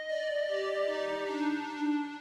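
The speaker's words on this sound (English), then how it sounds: "This is the Afterglow pad, and we've brought down the release" A Juno Afterglow synth pad with its release shortened sustains as a smooth, steady chord, its notes gliding downward partway through, held alone at moderate level.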